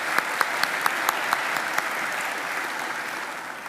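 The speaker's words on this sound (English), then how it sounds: "let's give Melanie another round of applause" Steady, dense applause from a graduation ceremony audience for an award recipient named Melanie, a broad continuous wash of many hands with a few louder nearby claps standing out, sustained evenly throughout.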